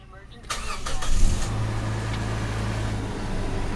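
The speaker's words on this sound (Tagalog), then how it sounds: "Start ko na yung makina para mag-circulate yung langis." A Toyota Fortuner's 2TR-FE gasoline engine cranks and catches after a couple of quick bursts, then settles into a steady, close idle.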